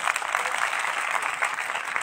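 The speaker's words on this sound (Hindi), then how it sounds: "मेरा ख्याल है इनके लिए भी क्लैपिंग होनी चाहिए।" An audience at Sheikh Barkat college in Chowki claps for the college staff. The applause is steady, dense and continuous throughout, with no voices above it.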